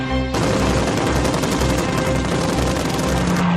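Yak fighter's rapid-firing Shkas machine guns and 20mm ShVAK cannon firing in a continuous loud rattling burst, dense and steady, close and dominating with no speech.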